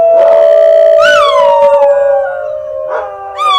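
A New Guinea singing dog howls loud and close, a sustained tonal wail that swoops high then slides down, with rising yelping calls breaking in near the end.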